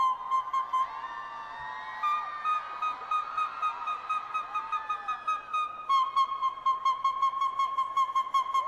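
A human voice imitates a bird, producing long sliding whistle-like tones with pulsing trills, clear and alone against faint background noise.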